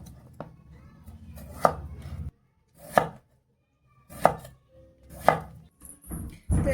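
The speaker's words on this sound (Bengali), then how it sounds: "এবারে এগুলো একটু কেটে নেব। একটু মোটা মোটা করে চাকা করে নেব।" A knife cuts peeled potatoes into thick rounds, giving several distinct, evenly spaced chops against a board with quiet pauses between them.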